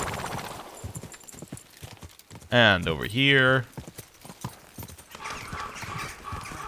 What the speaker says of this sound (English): Horse might still be moving as well.